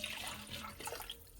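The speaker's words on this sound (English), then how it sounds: "to my heavy cream, I'm going to go ahead and add my stock" Stock poured into a bowl of heavy cream while making broccoli and cheese soup, a close, steady liquid splashing and trickling that runs the whole short moment without any talk.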